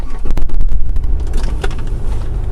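A 2021 Nissan Patrol Super Safari engine cranks and starts, a loud, dense rumble with clicks and mechanical clatter close by, settling into a steady running roar.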